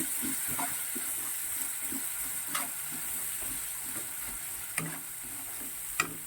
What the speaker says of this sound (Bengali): প্রায় 5 মিনিটের মতন ভালো করে কষিয়ে নিলাম।